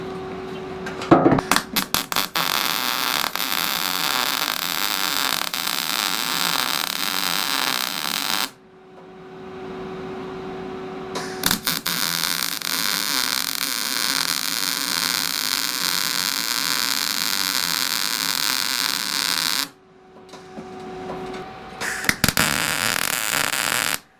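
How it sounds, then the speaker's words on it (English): Welding steel tube rear fender flares on a Jeep XJ, long bursts of steady buzzing, crackling arc noise separated by quiet pauses, with a few sharp clicks and taps between welds. "But let's get welding."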